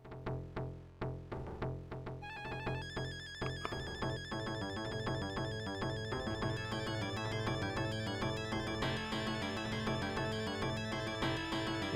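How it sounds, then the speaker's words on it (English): Chiptune music and beeps from the attract mode of a Sega Genesis Mini, cycling through demos such as Columns. A busy synthesized melody with rapid arpeggios plays continuously at a moderate level. "What you're hearing is the Attractor mode on the Sega Genesis Mini."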